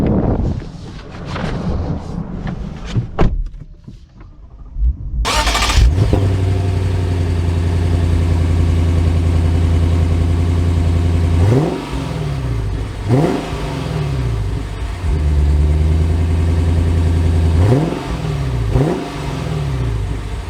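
A 2023 Lexus IS 500 V8 sits quiet, then cranks to life with a loud burst and settles into a steady idle, punctuated by several sharp revs that climb and fall back, close up with no talking.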